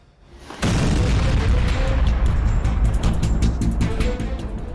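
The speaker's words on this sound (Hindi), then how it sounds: "ये यूक्रेन के ड्रोन का धमाका है, हुआ रोमानिया में है।" A Ukrainian drone exploding in Romania: after a brief quiet start, a sudden loud boom erupts and rolls on as a sustained, dense roar with crackling bursts.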